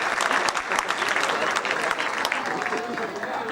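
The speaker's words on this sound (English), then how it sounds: "So I think we need a round of applause for that." Applause from an audience at a high school academic awards ceremony, a dense, steady patter of many hands clapping at close range and sustaining for the whole stretch.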